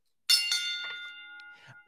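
A bell sound effect rings out once with a bright metallic strike, then a long shimmering tone that slowly decays over about a second and a half, loud and alone.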